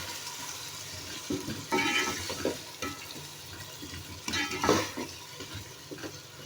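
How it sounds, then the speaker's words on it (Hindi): Potatoes, onions and tomatoes for aloo shorba stir-fry in a pan, a soft steady sizzle broken by a few louder scraping stirs, fairly quiet and without voices. "अब हम इसकी भुनाई कर लेंगे।"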